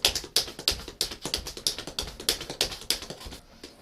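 Tap shoes on a hard floor in a funky tap dance warm-up, beating out a quick steady run of sharp pick and step clicks, close and crisp, with no talk.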